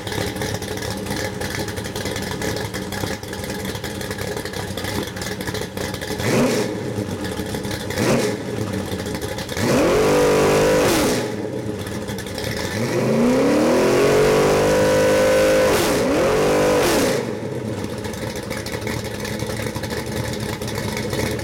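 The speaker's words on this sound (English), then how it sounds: "This happens to be a 461 stroker made out of a 400 Pontiac block. I'd like to fire this up and give you a little run demonstration." Custom Pontiac 461 stroker crate engine built from a 400 block runs on a stand with a steady idle, then climbs through several sharp revs, the longest around mid-clip, each dropping back to idle.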